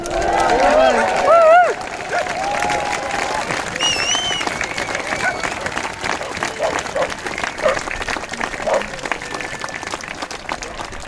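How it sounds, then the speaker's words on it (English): A rally crowd cheers and applauds, loud whoops and shouts at first, then settling into sustained clapping that carries on steadily to the end. "I think that deserves a huge cheer as well"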